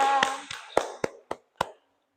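A few scattered hand claps from a small classroom group after a student presentation, roughly five sharp separate claps that trail off within two seconds, following a brief murmur of voices.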